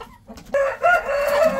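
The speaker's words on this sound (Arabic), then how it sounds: "دجاجه عربيه بيضه وياها ديك ابيض عربي." A white Arab breed rooster crows loudly nearby, a drawn-out wavering call that follows a few soft clucks from a white Arab hen in a poultry yard.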